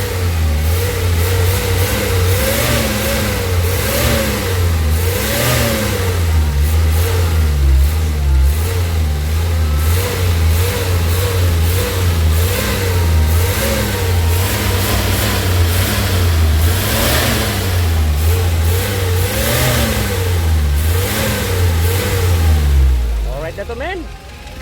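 A car engine runs steadily for over twenty seconds at loud, close range, rising and falling in repeated revs, with a deep rumbling tone throughout before it cuts off at the end.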